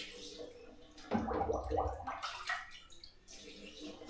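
Water splashes and gurgles while winemaking equipment is rinsed: a short, close burst of running and sloshing water in the middle, fading to softer trickling and dripping, with faint voices around it.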